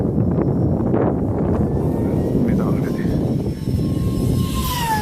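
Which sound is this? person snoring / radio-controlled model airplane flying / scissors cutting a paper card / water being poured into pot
radio-controlled model airplane flying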